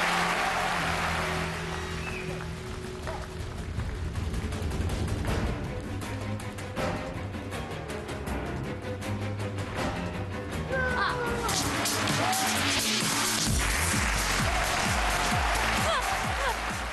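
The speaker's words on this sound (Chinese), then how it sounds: "再次把掌声送给 Diego" A studio audience on a Chinese TV show breaks into sustained, dense applause and crowd noise for magician Diego Minevitz after an extreme katana Russian roulette trick, steady and loud throughout.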